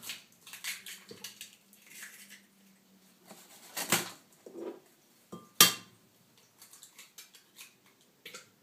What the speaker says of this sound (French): Et on met les œufs à l'intérieur.